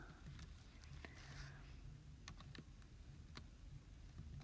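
Rapid clicking of computer keyboard keys as algebra equations are typed into the Desmos graphing tool, a steady run of light taps with a few sharper strokes, fairly close against a quiet room.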